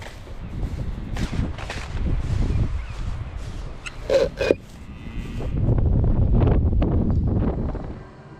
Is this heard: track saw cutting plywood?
no